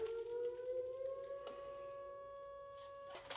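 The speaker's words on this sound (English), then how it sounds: "This time the great old sirens went off." Old civil defense air raid sirens wail in the distance, a steady sustained multi-tone howl that holds throughout, with faint scattered background noises.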